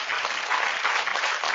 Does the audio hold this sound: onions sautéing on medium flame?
no